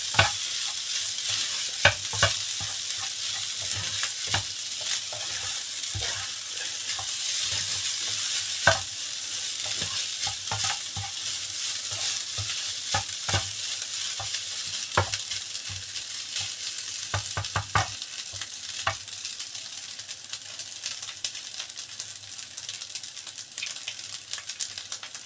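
Minced pork fries in its own rendered fat for fried rice. A steady, moderate sizzle runs throughout, broken by frequent clicks and scrapes of a utensil stirring the meat in the pan.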